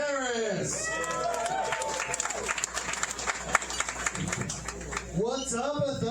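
A comedy club audience at Othello's claps and cheers as a comedian is brought on, a steady close wash of applause with a host's voice over the start and the comic speaking at the end.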